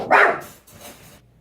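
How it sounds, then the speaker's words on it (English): Pet dogs bark loudly and close at the neighbors in a home, with one strong bark followed by a softer second bark and a short tail of noise. "my dogs were barking at the neighbors"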